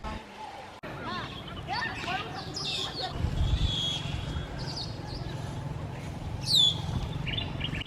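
Several wild Senegal parrots in The Gambia give scattered squawks and whistled calls, with one louder shriek near the end, over a low rumbling outdoor background and a talking voice.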